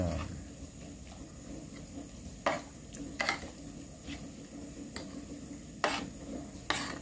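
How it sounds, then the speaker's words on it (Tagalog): A mixture being stirred round a cooking pan until fully combined, with soft scraping strokes and a few sharper clinks of utensil against metal over a low steady sizzle. "Halu-haluin lang natin hanggang completely mix well."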